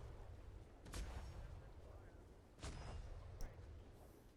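Warship cannons fire broadsides in a naval video game: two heavy booming volleys about a second and a half apart, each rolling on with a long rumble, over a continuous low background.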